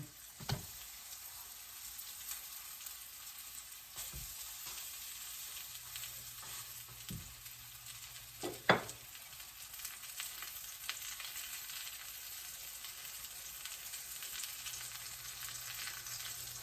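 Potato cakes frying in oil in a pan, a steady close sizzle running throughout with a few sharp pops and crackles scattered along it, no talking.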